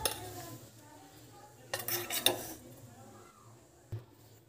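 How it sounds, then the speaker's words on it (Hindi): Potatoes are mixed with spices, salt and mustard oil in a metal bowl, giving a quiet scrape and a brief cluster of clinking spoon-on-dish sounds in an otherwise hushed room. "इन सभी चीज़ों को अच्छी तरह से हम मिक्स कर लेते हैं।"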